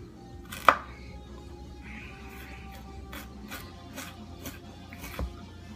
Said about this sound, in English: chopping broccoli